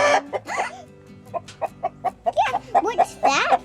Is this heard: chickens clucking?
yes